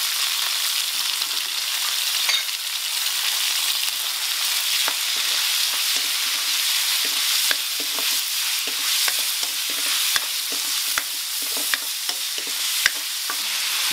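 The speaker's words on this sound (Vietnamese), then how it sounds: "Bây giờ thì em sẽ tiến hành xào cái phần chân gà của em nhé." Boned chicken feet with minced garlic sizzle and crackle in a hot pan while being stir-fried, with scattered scraping clicks over a steady frying hiss; no voices.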